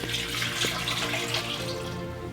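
Water pours steadily into a cauldron of potatoes, a close, continuous splashing gush that holds throughout with no talk.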